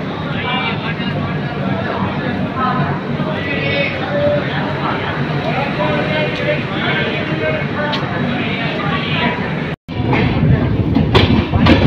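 Rumbling train noise fills a busy station, with crowd chatter and voices throughout and a brief cut near the end.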